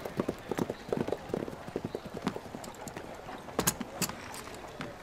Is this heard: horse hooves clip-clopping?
yes